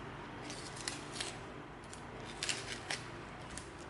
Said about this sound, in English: now we're going to come in and we're going to peel off our tape